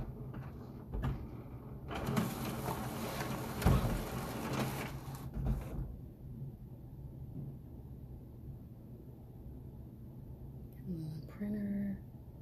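A printer runs while printing custom tissue paper, giving a busy mechanical whir and clatter for several seconds, then quieter feed noise and a few faint clicks and tones near the end.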